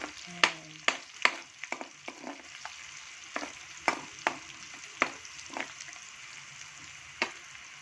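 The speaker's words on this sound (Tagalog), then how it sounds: "haluin lang ito hanggang sa maluluto siya" Food fries quietly in a pan while a utensil stirs it, giving a dozen sharp, uneven scrapes and clacks against a soft steady sizzle.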